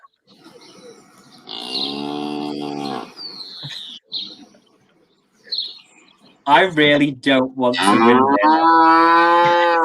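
A cow moos in long, drawn-out calls, first alone and then again in a louder burst near the end, with a person speaking briefly in between.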